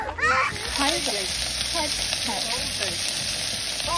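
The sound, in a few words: frying chicken wings while camping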